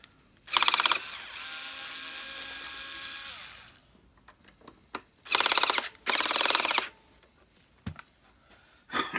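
Screws being undone at the back of a Hoover Senior Ranger U4002 vacuum cleaner: several bursts of ratcheting screwdriver clicks, one long sustained run followed by two shorter ones, close and fairly loud, with small handling knocks between.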